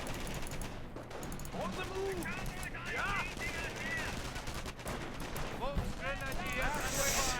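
Machine-gun bursts crackle in the World War II strategy game Company of Heroes, with rapid rattling volleys recurring through a busy battle mix while voices talk over the gunfire.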